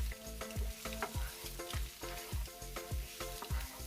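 Chopped fried egg whites are stirred in a sizzling pan, a spatula scraping in a steady rhythm of about two strokes per second over continuous close frying hiss, with no voices.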